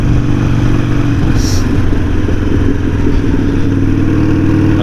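Motorcycle ridden down a rocky off-road track, a steady, loud engine drone with clattering from the rough ground throughout and no talk.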